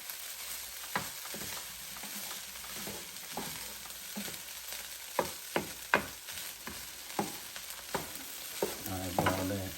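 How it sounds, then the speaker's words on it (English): Bacon fried rice stirred in a Power XL cooker: soft sizzling under repeated scraping and clanking strokes of a utensil against the pot, growing busier toward the end, with no talking. "Mix it up nice and good."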